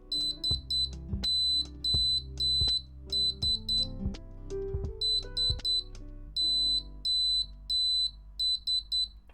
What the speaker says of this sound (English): that's Morse code for SOS